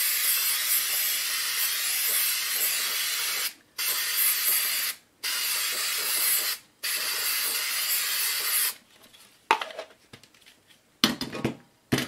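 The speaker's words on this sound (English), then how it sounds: "we're going to spray it. Spray the image, don't spray the shirt" An aerosol can of spray adhesive sprays in several long hissing bursts separated by short pauses, close and loud, followed by a few softer rustles and a final spray.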